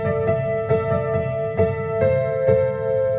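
Right-hand piano melody, single sustained notes struck at a steady, unhurried pace, each ringing with clear harmonics and rich overtones over a soft low background.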